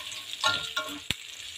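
Chicken breast and glass noodles being sautéed in a pan, with a few bursts of sizzling and stirring scrapes close by, no talking.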